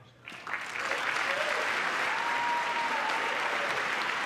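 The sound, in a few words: applause at presidential address to Congress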